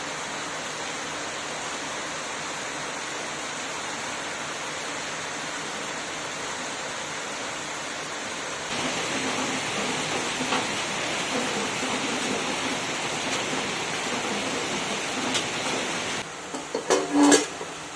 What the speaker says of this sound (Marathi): बाहेर पहा आमच्याकडे एकदम जोराचा पाऊस चालू आहे.